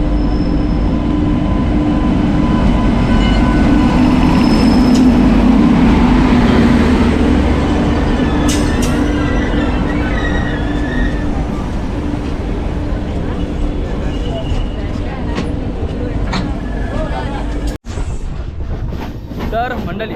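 Mangala Express rolling into a station, a loud sustained rumble of carriages and wheels with a steady low hum that gradually eases, ending with a sharp clack near the end.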